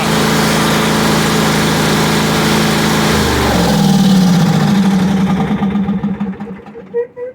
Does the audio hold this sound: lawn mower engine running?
yes